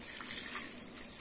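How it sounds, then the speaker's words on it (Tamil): Water poured into chicken salna in a pan, a faint, brief pouring and splashing under roadside-style cooking, with no talk. "தண்ணி ஊற்றிக்கலாம்."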